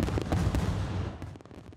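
Fireworks from a city display boom in a dense, continuous volley, loud and close, with overlapping crackling bursts that thin out toward the end.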